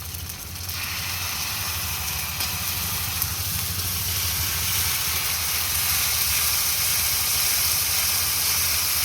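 Ginger, garlic and chili paste fries in a pan with a steady, even sizzling hiss that runs unbroken throughout, and nobody speaks.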